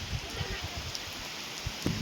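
Heavy May rain in Dapoli village falls as a dense, steady hiss with scattered closer drops and patters, continuous and fairly loud throughout.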